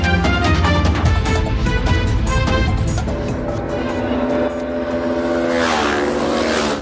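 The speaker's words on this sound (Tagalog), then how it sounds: "Nakuhanan ng video ang karera ng ilang motorsiklo sa Cotabato City alas 2 ng madaling araw kahapon" Several motorcycles in an illegal 2 a.m. street drag race in Cotabato City roar past at high revs, their engine whine loud and continuous, with pitch sweeps as the bikes pass close by.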